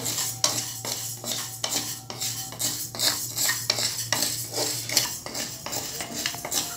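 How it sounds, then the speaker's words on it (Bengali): Rice being stirred while dry-roasting in a pan, a spoon scraping and tapping the metal in steady repeated strokes, close and fairly clear, with faint crackling grains beneath. "এভাবে আমি অনবরতই নাড়তে রয়েছি আর এটা কিন্তু অনবরতই নাড়তে হবে না হলে চালগুলো পুড়ে যাবে"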